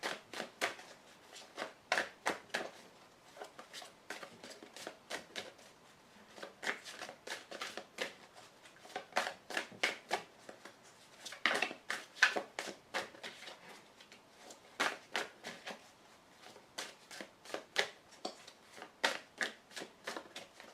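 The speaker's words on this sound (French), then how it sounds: "Allez, on coupe. Alors, réfléchissez bien à votre question. C'est parti. Je prends 5 cartes." Tarot cards being cut, shuffled and drawn by hand, giving repeated crisp riffling and flicking bursts in an irregular rhythm throughout, close and fairly quiet, with no speech.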